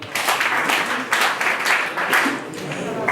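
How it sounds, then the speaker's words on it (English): Applause from an audience at a school event, a steady wash of many hands clapping for about three seconds, moderately loud and continuous with no talk over it. "We can clap for them."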